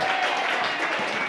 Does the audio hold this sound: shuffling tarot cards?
no